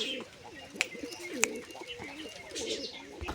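Pigeons coo in repeated low, bubbling calls nearby, broken by two sharp clicks and some background rustle.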